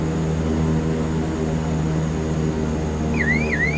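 A big CL-415 float plane's propeller engines drone steadily and loudly in a flight simulator game, a constant mechanical hum with a warbling alert tone near the end.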